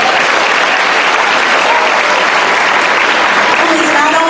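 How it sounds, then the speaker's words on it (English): A school academy audience applauds their principal with loud, dense, continuous clapping that fills the room, holding steady throughout with a faint hint of voices mixed in. "Let's give him a round of applause."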